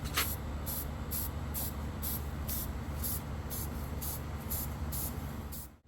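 Black spray paint misted over a shrink-wrapped tiki torch skull, a continuous close hiss pulsing in about a dozen regular short bursts before cutting off at the end.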